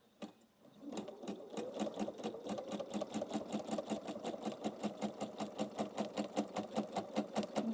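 A sewing machine stitches steadily with a fast, even mechanical chatter that starts after a brief pause and runs continuously, close and clear, with no talking over it.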